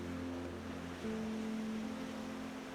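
Ocean waves roll onto a beach at Mancora, Peru, a steady, soft wash of surf under a faint tonal hum, continuous and fairly distant.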